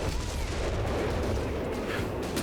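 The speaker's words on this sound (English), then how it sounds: "Ace artillery coming down here" Artillery barrage in Company of Heroes 3 on a winter 4v4 battlefield, a continuous rumble of heavy explosions and scattered gunfire blending into a loud, dense wash of combat noise with no clear pauses.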